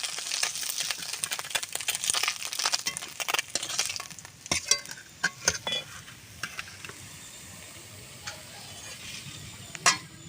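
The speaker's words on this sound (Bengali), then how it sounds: "উচ্ছেটা ভেজে নেব।" Bitter gourd frying in a pan for a small-fish curry, with soft crackling sizzle and a series of sharp ticks and spatters, fading from busier to sparser pops.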